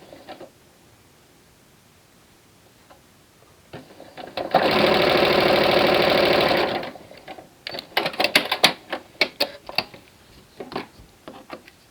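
A sewing machine chain-pieces quilt rows of layer-cake squares in a steady mechanical whir of about two seconds, close and loud, framed by quieter handling and rustling of fabric.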